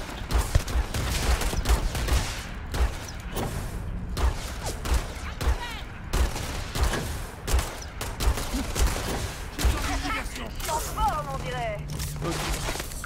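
Repeated gunshots in a Starfield firefight, sharp bursts popping at irregular intervals throughout, with a person talking between and over the shots.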